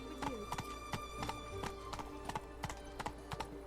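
Roach the horse gallops in The Witcher 3, a rapid run of hoof clip-clops at steady rhythm, fairly close and clear over low background game music.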